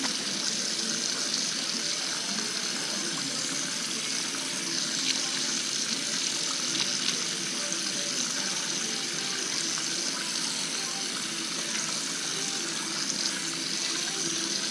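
Tap water runs steadily into a sink while hands are washed, a constant splashing gush with small shifts as the hands move under the stream, continuing unbroken for the whole stretch.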